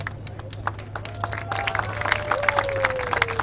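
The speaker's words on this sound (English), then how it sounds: "a huge round of applause for them." A crowd applauds powerboat racers at an XCAT race in Dubai, steady clapping and cheering under a loud announcer's voice, with a constant low hum behind.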